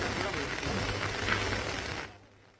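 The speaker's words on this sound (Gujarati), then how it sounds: "તાપી જિલ્લામાં છેલ્લા 24 કલાકથી પડી રહેલ અવિરત વરસાદને પગલે" Heavy, unbroken rain pours down in Tapi district, a dense steady hiss that fills the scene before dropping away abruptly near the end.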